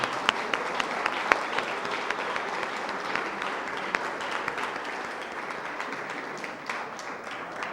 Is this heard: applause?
yes